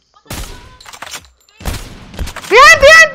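Gunfire in a battle royale squad video game, with a burst of sharp shots up front and another cluster of shots midway. Excited voices shout over the action.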